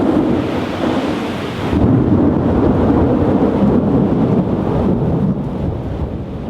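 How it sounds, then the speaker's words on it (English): A particularly violent thunderstorm: heavy rain pours steadily while deep thunder rumbles loud and close, with a sharp surge about two seconds in and wind buffeting the microphone throughout. "to shelter out of a particularly violent thunderstorm"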